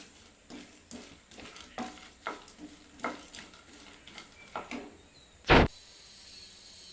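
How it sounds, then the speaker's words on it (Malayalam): Dry fruits and nuts frying in a pan, stirred with a utensil in steady scraping strokes over a soft sizzle, then one sharp loud clank near the end before a quiet tail; no talking. "ഇനി ഈ ഡ്രൈ ഫ്രൂട്ട്സ് ഒന്ന് അതിലൊന്ന് ഒന്ന് പൊരിച്ചെടുക്കണം ചെറുതായിട്ടൊന്ന് കളർ മാറുവോളം ഒന്ന് വറുത്തെടുക്കണം"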